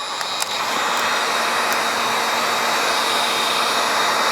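A heat gun blows a steady, loud whoosh of hot air onto a heat-shrink solder connector while bypassing a truckmount waste part.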